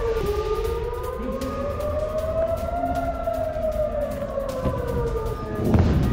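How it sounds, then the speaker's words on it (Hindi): Air raid sirens wail continuously over Tel Aviv during a rocket attack, the long rising and falling tones layered and sustained throughout, loud and steady against a busy city background. "तेल अवीव में लगातार बज रहे सायरन"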